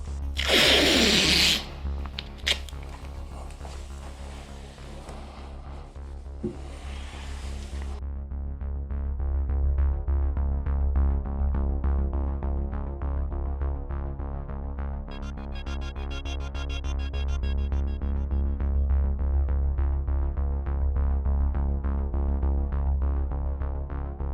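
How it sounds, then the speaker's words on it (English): Masking tape tearing and rubbing against a car body while plasti dip racing stripes are laid out, with a couple of sharp rips at the start over a steady low hum. "So I'm gonna go ahead and start taping."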